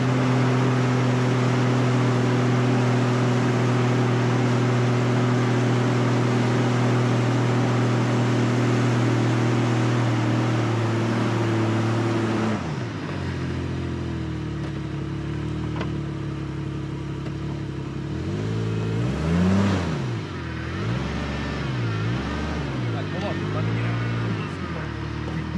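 A Jeep XJ's engine runs steadily on off-road desert trails in Johnson Valley, a low droning rumble that cuts out midway, followed by quieter rolling noise, voices and a brief higher whine near the end.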